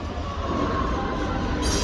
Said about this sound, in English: 66085, pulling a goods train.